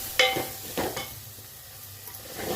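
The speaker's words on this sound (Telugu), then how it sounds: "వీటిని బాగా కలుపుకున్నానండి." Coriander powder and garam masala are stirred in a pan, giving faint scraping strokes with a spoon and a soft sizzle underneath, a few brief clinks near the start.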